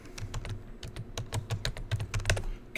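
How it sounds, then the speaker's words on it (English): Rapid typing on a loud computer keyboard, with sharp clacky keystrokes in quick irregular bursts, close up and alone. "God, that keyboard is fucking insane."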